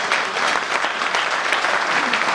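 An audience applauds at a patriotic Urdu poetry recital with a dense, even clatter of many hands clapping continuously, fairly close and steady throughout.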